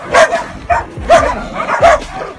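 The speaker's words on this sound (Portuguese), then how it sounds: "Tadinha do cachorro." A dog close by gives four yipping barks in an uneven rhythm, mixed with whimpering, loud and alone with no talk.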